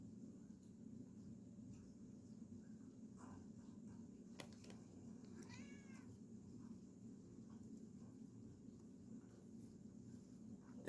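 A house cat gives a few faint meows in a quiet room, short calls standing out against a low steady background hum.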